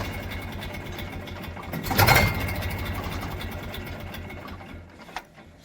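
A tractor unloads dry fodder into a feeding trough at a rural cattle yard, its engine running steadily nearby with a mid-pitched chugging hum that swells briefly before settling back.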